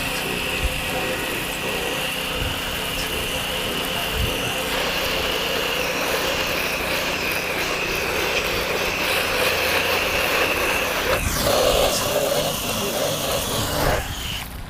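A pressure washer rinses a house window, top to bottom, in a continuous loud spray with an engine drone behind it, holding steady close by and shifting in tone toward the end, with no talk over it.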